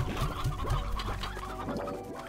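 Stony Hen in the Slime Rancher video game: a string of quick, fairly loud clucks in an irregular rhythm over a steady background hum, with no speech.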